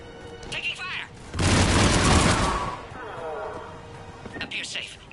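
Gunfire in Mass Effect Legendary Edition erupts as a loud, dense burst of shots and booming blasts lasting about a second and a half, between stretches of radio-style character dialogue.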